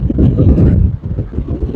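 Strong wind gusts buffet the microphone on the Blackpool North seafront promenade, a loud, low, rumbling roar that swells and dips over a couple of seconds.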